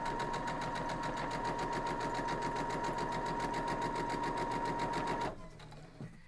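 A sewing machine runs in a fast, even rhythm while stitching small quilt block pieces together, close and steady for about five seconds before stopping abruptly.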